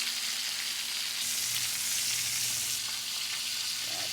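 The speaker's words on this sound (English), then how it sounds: "Got the pork chop going with the onions." Pork chop frying with onions in a pan, a steady close sizzle holding evenly throughout with faint stirring touches and no talk.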